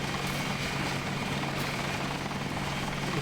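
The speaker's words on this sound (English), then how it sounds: "Hello, helicopter." Helicopter in the Deus Ex game during the Statue of Liberty mission, a steady broadband rotor and engine roar filling the scene at constant loudness with no talk.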